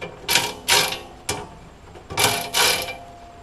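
Nuts and bolts on a Harbor Freight welding cart are snugged with a ratcheting tool: five short bursts of rapid metallic clicking, close and fairly loud, with brief gaps between them.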